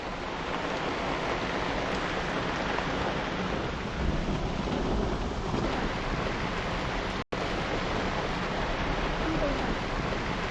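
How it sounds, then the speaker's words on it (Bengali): Heavy rain pours through a forest in the Dooars, a dense, continuous roar with low thunder rumbling beneath, briefly cut off once near the end. "বৃষ্টির আওয়াজ আর মেঘের গর্জন যেন জঙ্গলের বুকের মধ্যে এক অদ্ভুত সিম্ফনি বাজাচ্ছে"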